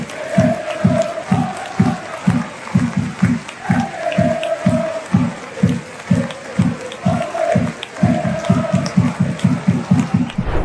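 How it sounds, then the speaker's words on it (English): Football crowd at a Celtic match chanting and clapping in steady rhythmic unison during a minute's silence for the royal family, loud and sustained with a mass of voices over repeated hand claps. "That's them chanting, "If you hate the royal family, clap your hands," for the entire minute silence at a Celtics match."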